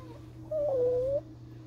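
A single soft, drawn-out cat meow rises and falls over a low steady hum in an otherwise quiet room.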